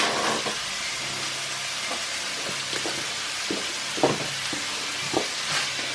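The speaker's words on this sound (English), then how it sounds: "this mince is cooking very nicely" Beef mince for loaded fries sizzles steadily in a pan. Soft scraping and clacking from a spatula breaking up the meat cuts in at irregular intervals.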